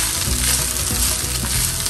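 Rice stirred into asparagus pulao in a pan, a steady broadband sizzle with soft repeated scraping strokes of mixing, close and continuous with no talking.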